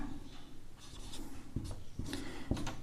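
Chalk or marker strokes on a classroom board while a perpendicular line is drawn for a geometry construction, with soft scratching and several short taps, close and moderately quiet.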